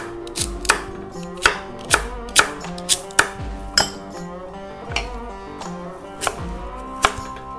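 Celery chopped with a knife on a cutting board for a hearty stew, a run of about a dozen crisp, sharp knife strikes at an uneven, unhurried pace, close and clear with no talk.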